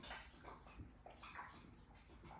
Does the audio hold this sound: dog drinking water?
yes